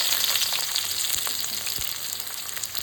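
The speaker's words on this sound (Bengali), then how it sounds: "পেঁয়াজটাকে একটু ভালো করে নরম যখন হবে তখন ততক্ষণ পর্যন্ত একটু ভেজে নেব।" Finely chopped onion fries in oil in the same pan just used for potatoes, giving a steady, dense sizzle with occasional soft stirring knocks and no voices.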